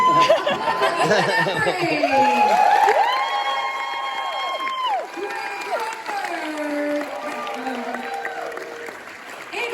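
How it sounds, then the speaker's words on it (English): Audience applause and cheering at a sci-fi panel on a Comic Con cruise, clapping mixed with crowd chatter, laughter and a voice talking over it, gradually easing off. "So let's, applaud."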